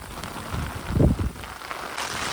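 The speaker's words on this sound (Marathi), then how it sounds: "पाऊस बघा कसला आलाय. एकदम वादळ आलाय." Heavy rain in a windy storm drums steadily on an umbrella at the water's edge, a broad wash of rain with a louder gusty swell in the middle, no talking.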